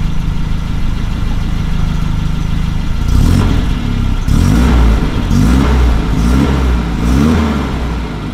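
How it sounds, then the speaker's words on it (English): Volvo 240 wagon engine fitted with an IPD performance exhaust, idling low and steady, then revved several times in loud, close blips that rise and fall alone. "Let me give it some revs and we'll see."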